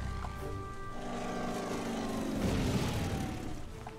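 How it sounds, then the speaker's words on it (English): Aircraft engine drone in the strategy video game Order of Battle, a steady propeller hum building to a loud, rumbling pass with a low boom, then easing off, heard alone. "Here comes the aircraft."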